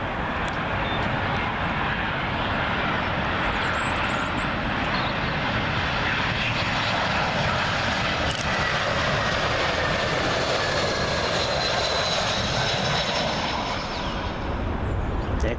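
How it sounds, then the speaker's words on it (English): Jet engines of a British Airways Airbus A320 in oneworld livery, landing at Heathrow after arriving from Dublin, give a loud, sustained roar that stays steady and close throughout, with no voices over it. "British Airways One World livery A320 in from the Emerald Isle of Dublin"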